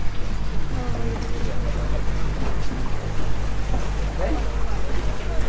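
A boat engine drones low and steady on the water at Raja Ampat, with wind and splashing around it and scattered voices underneath.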